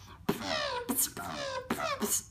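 A beatboxing voice imitates a buzzy, kazoo-like wobbling dubstep bass in rhythmic bursts, with sharp clicks and hissy accents between the tones, close and fairly quiet.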